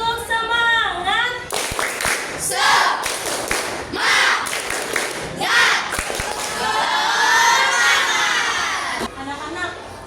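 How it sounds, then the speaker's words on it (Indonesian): A class of children performs the tepuk semangat clapping chant in rhythmic bursts of claps and shouts, with an adult voice leading and talking between them. "Sebelum mulai kita tepuk semangat biar semangatnya lebih membara ya."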